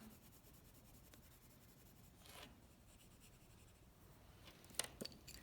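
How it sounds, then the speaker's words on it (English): A dark green colored pencil burnishes on paper with very faint, steady scratchy rubbing strokes, close up, and a couple of slightly sharper scrapes near the end. "now I'm going to actually burnish with my darker green to help mix those colors together."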